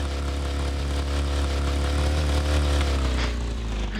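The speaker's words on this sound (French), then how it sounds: "Ah, mais t'es en moto là?" A motorcycle engine in the video game Totally Accurate Battlegrounds drones loudly and continuously, its pitch rising slightly midway as if revving up.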